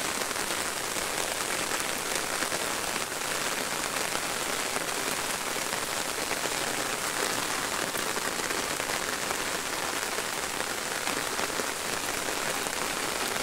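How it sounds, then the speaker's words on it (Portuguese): Light rain falls steadily on surfaces outdoors near a bean field, a dense, even hiss of drops that stays constant throughout with no voices. "E a chuvinha continuou. Vai pegar firme aí o resto da tarde aí."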